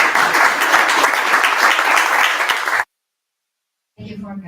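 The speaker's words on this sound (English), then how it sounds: "Big applause, please." Audience applause at an AI meetup in Miami, a dense burst of clapping that stops abruptly, followed by a short stretch of silence and then a voice speaking.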